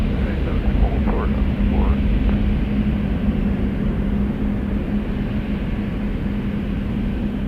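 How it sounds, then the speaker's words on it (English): A small airplane at Toronto Pearson Airport producing a steady, broad engine roar, loud and continuous, with a voice talking faintly underneath. "The little planes always have the mighty roar."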